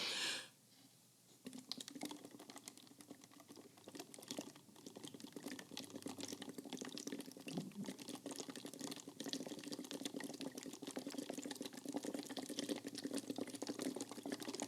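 Continuous bubbling and gurgling as air is blown steadily through a straw into a bottle of water, close and sustained for several seconds.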